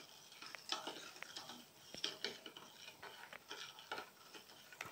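A milk mixture of condensed, fresh and evaporated milk for mango ice candy is stirred in a bowl, producing faint, irregular clinks and scrapes of a utensil against the container.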